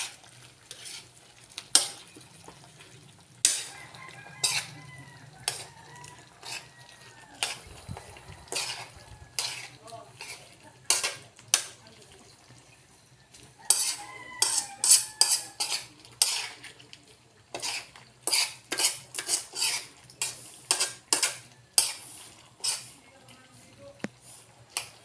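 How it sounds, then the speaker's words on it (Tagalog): A utensil stirs a mountain shell dish in a cooking pan, scraping and clinking against the metal in irregular bursts over a soft sizzle, with an occasional cough nearby. "Konting halo mga kachamp."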